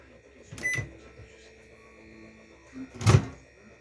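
A microwave oven in a home kitchen, heating side dishes; two short clunking bursts, like the door or buttons, break a quiet low hum, the second louder and close by.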